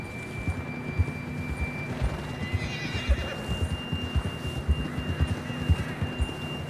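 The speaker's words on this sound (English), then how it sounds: "John was riding that horse when we left Blackwater" A horse in the video game Red Dead Redemption 2 whinnies loudly while hooves clop in a steady galloping rhythm underneath, close and continuous with a faint hum in the background.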